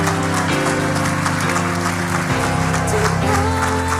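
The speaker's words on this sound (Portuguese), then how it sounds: "Vamos dar um aplauso a Jesus?" A church congregation applauds at Cathedral International, a dense, even wash of clapping over sustained worship music that keeps playing beneath it.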